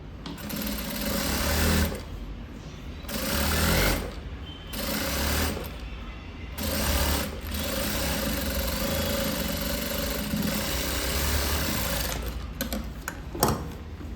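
A sewing machine runs in repeated bursts of steady whirring as it stitches over the folded lining of a chudidar, pausing briefly between runs with a few clicks near the end.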